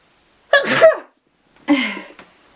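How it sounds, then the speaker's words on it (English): Two sharp sneezes, close and loud, each a quick burst with a breathy intake, separated by about a second of silence. "I was going to sneeze"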